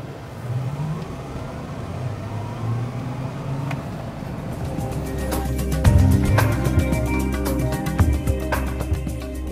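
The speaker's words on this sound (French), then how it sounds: "Là, on va faire une petite accélération." A car accelerates from a standstill, its engine note swelling and rising in pitch through the middle of the clip, then holding a loud, steady drone with no talking.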